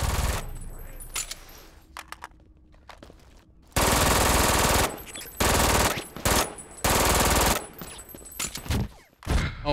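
Machine gun fire in the PC shooter Brink, loud sustained bursts broken by brief pauses, with some single shots and quieter game sounds in between, near and dominant without speech.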